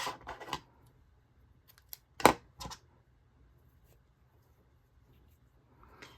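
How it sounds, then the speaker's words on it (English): Scissors snip through crochet yarn in a quiet room: one sharp cut stands out among a few faint clicks and rustles. "And then we can cut off the yarn."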